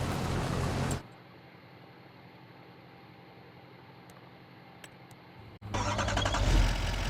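A truck engine turns over and starts, then loud engine noise drops away into a quiet stretch with a few faint clicks before the engine roars back up as the truck drives off, close by.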